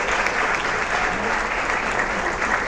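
Dense, steady applause from an audience thanks a panel, filling the whole stretch with no gaps and a faint crowd murmur underneath.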